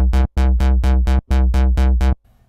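Synth bassline through a low pass filter whose cutoff an LFO at 1/8 rate pumps, giving eight loud, rhythmic notes that each start bright and quickly darken, ending in a faint tail.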